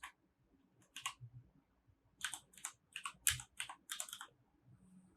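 Bursts of typing on a computer keyboard, several clusters of quick key clicks with short pauses between them, close and fairly quiet with no voices.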